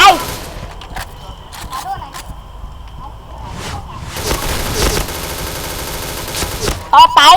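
Gunfire in the online shooter Point Blank: rapid automatic bursts and dense fusillades, loudest in the second half, with a voice speaking over parts of the action.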